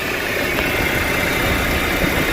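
A 2012 Chevy Cruze with 140,000 miles idles after a jump start, its engine giving a steady, close, unbroken hum with a mechanical rumble and no voices over it.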